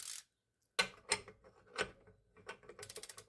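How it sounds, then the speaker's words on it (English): A torque wrench set to 32 foot-pounds tightens a bolt on a VW Beetle under restoration, giving quick bursts of ratcheting clicks with short pauses between them, close up and with no voices. "So you have your torque wrench set at 32 foot-pound."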